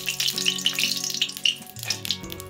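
Coriander seeds frying in hot oil in the same oil used for dried red chillies, while making a sweet-sour jujube (kul) pickle; a steady close crackling sizzle with soft pops, heard alone.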